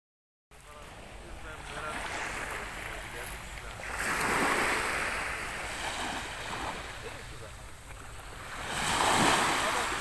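Sea waves roll in beside a seafront promenade, with a steady wash of surf and two louder surges several seconds apart under a breezy background.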